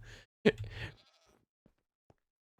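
A single short goat bleat in the Minecraft video game, followed by a few faint clicks and near silence.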